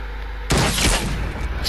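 A sudden loud burst of gunfire from a Fortnite match strikes at once and holds as a dense, close blast of shots and impacts.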